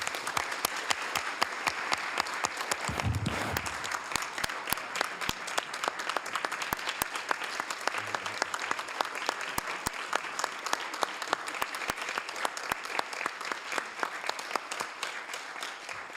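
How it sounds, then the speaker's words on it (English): At a Hayward city council meeting, the room applauds Ms. McAdoo with a fairly sparse, moderately quiet stream of individual claps that keeps a steady patter throughout. "let's give Ms. McAdoo a big round of applause"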